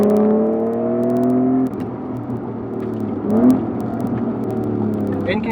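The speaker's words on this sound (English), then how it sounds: "And that sound, custom AEM exhaust doing its job." Honda NSX with a custom AEM exhaust hums close by, a steady engine drone that eases off and then rises in a short rev before settling back to idle.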